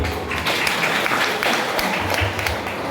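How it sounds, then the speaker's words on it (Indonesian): A crowd claps steadily at the inauguration of a Buddhist vihara in Riau, a dense, close burst of applause filling the whole moment without a break. "Tepuk tangan untuk beliau."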